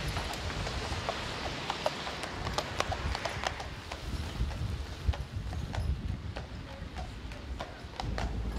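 A grey Shire horse driven in harness with a soft rubber bit clip-clops steadily, its hooves striking hard ground in an even rhythm at moderate distance, with faint outdoor background noise throughout.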